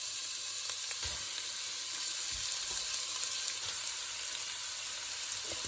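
Onion, carrot and celery sizzle in hot oil in a pan over medium heat, a steady soft hiss with an occasional stir, close up and without talk.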